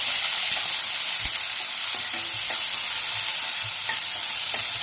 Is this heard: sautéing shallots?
yes